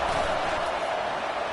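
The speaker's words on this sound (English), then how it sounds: "Fans are bringing the noise on 1st and goal." A football stadium crowd in a Georgia versus Texas game makes a steady, loud roar of cheering and noise on first and goal.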